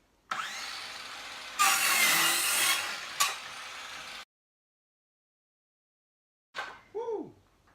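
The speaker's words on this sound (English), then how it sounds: "I'm gonna rip this oak" A cordless circular saw rips through a 1x white oak hardwood board, with a loud sustained whine that swells mid-cut, stops abruptly, and a short voice follows after a pause.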